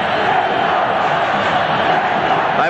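A stadium crowd roars for Grêmio at the 1982 Brazilian championship final against Flamengo, a dense, continuous wall of cheering and chanting that holds steady throughout.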